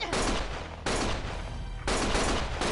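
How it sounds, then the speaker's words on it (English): Gunfire in the video game Lost Judgment: dense, loud bursts of rapid shots come in abrupt blocks that cut off and restart, with no voices over them. "Stop shooting!"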